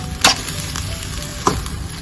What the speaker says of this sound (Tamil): தக்காளி நல்லா வதங்கி வரணும்.